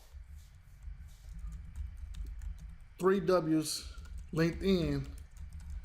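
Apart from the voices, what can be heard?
typing on a computer keyboard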